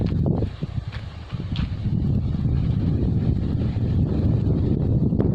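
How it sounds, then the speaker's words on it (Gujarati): Strong wind gusts outdoors on a farm, buffeting the microphone as a heavy, continuous low rumble with a few brief bumps near the start and no speech. "પવન હશે ચારે ઓર."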